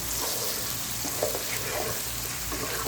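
Chicken and spices for pulao frying in a pan while being stirred, a steady loud sizzle with occasional scraping and stirring knocks, close up and continuous.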